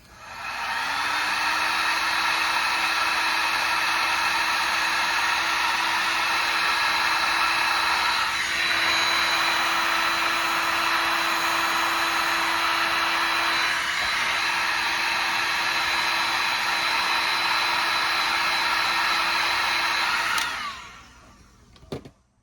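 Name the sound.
heat gun blowing hot air on a jack o'lantern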